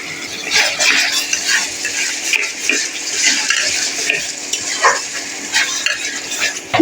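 A spoon scrapes and stirs as spice paste fries with onion and tomato in a pan for chicken biryani. The scraping comes in irregular strokes over a low background sizzle, close up and with no voices.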